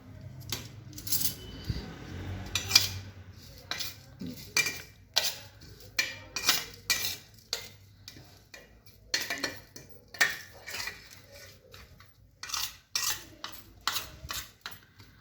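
A spoon clinks and scrapes repeatedly against a dish while mixing coarsely pounded masala for chicken achari handi, sharp rhythmic metallic taps close up with no talking.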